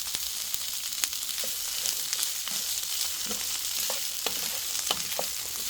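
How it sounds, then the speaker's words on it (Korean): Salted cucumber being stir-fried in a pan, a constant bright sizzle with faint, occasional scrapes from stirring. "어우 이렇게 해서 볶아주세요"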